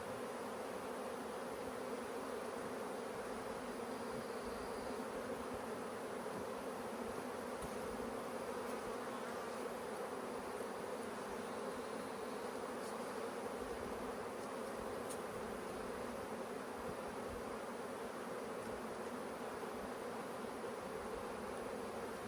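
Honeybees buzz around open hives while the colonies are split and mated queens are introduced. The hum is steady and continuous and stays fairly faint throughout, with no talking.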